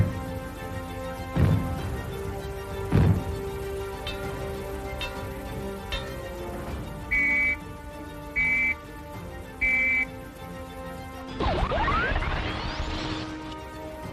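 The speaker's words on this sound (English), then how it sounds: "If the fallout warning sounds are heard, they will be like these." A Cold War fallout warning: two sharp bangs a second or so apart, then three short, evenly spaced whistle blasts over a faint steady background, ending in a swelling, noisy rush.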